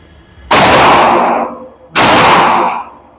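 A MAC9 DS Comp pistol fires two loud, close shots at targets about a second and a half apart, each a sharp blast with a ringing tail.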